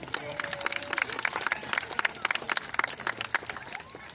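A crowd at a Blackpool Zoo sea lion show gives a sustained round of applause, lively dense clapping from a sizable audience, with a presenter's voice briefly audible near the start.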